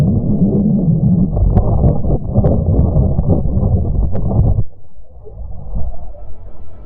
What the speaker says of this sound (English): That was the sound of the Earth's magnetic field as recorded by the Italian Spring Accelerometer on board the Bepi Colombo spacecraft in 2021.